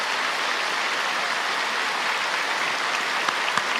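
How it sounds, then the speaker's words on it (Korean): A church congregation at a Sunday evening service applauding warmly for new members, a steady even patter of many hands clapping at moderate volume, with no one speaking over it. "여러분 일어날 때 뜨겁게 박수해 주시기 바랍니다."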